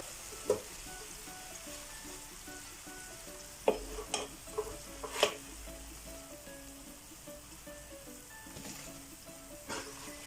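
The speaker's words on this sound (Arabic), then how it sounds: "سأقوم بقلي البطاطس" Potatoes fry in a pan with a soft, continuous hiss. A few sharp taps and clatters of stirring cut in at intervals, all fairly quiet, with no voices.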